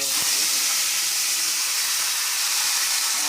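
Onions frying in oil for a Godavari village-style korameenu fish curry, a loud, steady hiss and sizzle that holds constant throughout.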